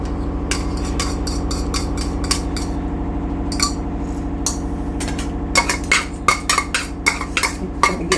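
An egg is beaten in a bowl for egg fried rice, with a utensil clinking rapidly against the sides in irregular bursts that grow busier toward the end, close-up with no voices.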